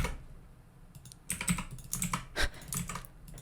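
Brief bursts of computer keyboard typing, quick clustered keystrokes at close range in a quiet room, starting after a second of near silence.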